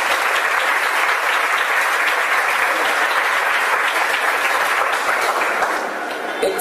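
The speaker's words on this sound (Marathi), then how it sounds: "टाळ्या वाजवून आपण त्यांचं अभिनंदन करू." Audience applause after a lecture: dense, sustained clapping from a crowd that holds steady for several seconds and eases slightly near the end.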